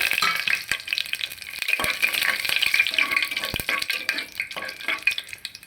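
Whole spices and bay leaves frying in hot oil in a pressure cooker for veg biryani, a loud, dense crackling sizzle with quick pops and some stirring, close up and continuous without talk.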